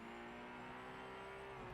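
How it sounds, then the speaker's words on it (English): A car engine revs at high RPM toward a 9,000 RPM limit, a steady, sustained whine with a droning tonal hum, heard faint and distant with no talking. "Just listen to the engine sing."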